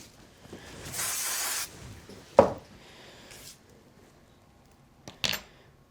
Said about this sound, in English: I'm going to go ahead and put a little bit of spray on the back of this